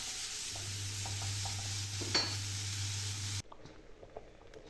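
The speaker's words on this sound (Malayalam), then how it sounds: "കടുകും വേപ്പിലയും കടർത്ത് കുറച്ച് മഞ്ഞൾപ്പൊടി ഇട്ട് കഷ്ണങ്ങളൊക്കെ ഇട്ടൊന്ന് ഇറക്കി കൊടുക്കാം" Mustard seeds and curry leaves crackle and sizzle in hot oil in a pan, joined by turmeric and stirred, with a loud steady hiss, a few scrapes and pops, then the sizzle suddenly drops to a quieter simmer.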